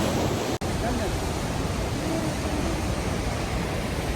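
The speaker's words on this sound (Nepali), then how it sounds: "यता पनि छ झरना।" A waterfall beside a trekking trail on the Panchakunda North ABC route in Nepal gives a steady, close, full-bodied rush, broken by one brief dropout near the start.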